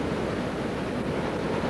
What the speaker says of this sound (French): Tu vois comment les vagues s'abattent contre le sable des côtes?